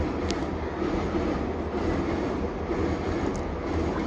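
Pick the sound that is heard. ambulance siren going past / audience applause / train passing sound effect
train passing sound effect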